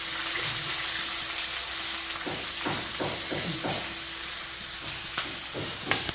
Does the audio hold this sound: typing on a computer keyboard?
no